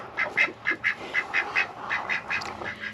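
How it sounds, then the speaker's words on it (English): Several homestead ducks quack in a rapid, rhythmic series of nasal calls, about a dozen in under three seconds, close by and clear with no talking. "Let me show you the duckies."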